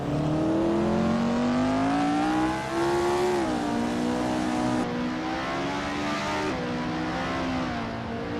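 Engine whine from 1960 Formula One race cars in a racing game, a steady high-revving drone that dips and climbs through gear changes, loud and close, with no talking over it.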